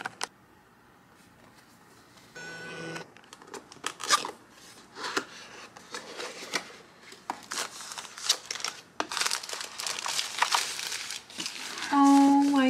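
Packaging crinkles and rustles as a new mechanical keyboard is unboxed at a home desk, with scattered crisp crackles, snips and taps at close range in an otherwise quiet room.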